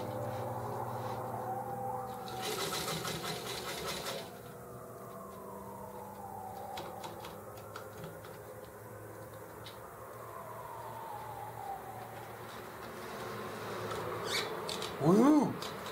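A sewing machine runs in a short burst, stitching the seam of a sling chair seat over a steady low hum, with quieter rubbing and handling of fabric before and after.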